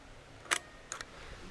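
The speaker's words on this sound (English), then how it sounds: "Don't forget to cock the shutter." The shutter of a Mamiya Press camera being cocked: one sharp mechanical snap, then a softer double click about half a second later, close up with no other sound.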